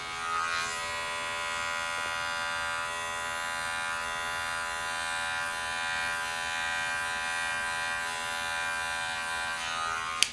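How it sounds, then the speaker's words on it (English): An electric hair clipper with an open blade cuts afro-textured hair, giving a loud, steady, close buzz that holds without a break for the whole stretch. "it's just you feeling out the clipper and playing with pressures"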